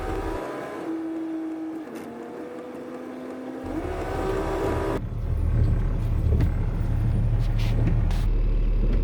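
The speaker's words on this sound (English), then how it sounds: "So we're gonna start driving in that road there now." A lineman's utility truck drives down a road with a continuous engine drone and tonal whine that shift in pitch as it moves, and road rumble grows louder toward the end.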